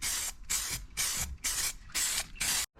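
Primer sprayed from a spray can in a garage, six short, close hissing bursts in a quick, even rhythm, each cut off by brief gaps, with no talking.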